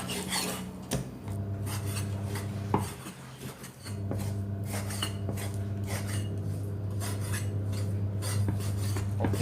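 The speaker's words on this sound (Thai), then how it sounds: "ได้หมูสะโพกมาแต่เรามาหั่นหมูกันก่อนครับ" A knife slices pork hip meat on a cutting board, giving repeated close scraping and chopping strokes with occasional sharper knocks, accompanied by a steady low background hum.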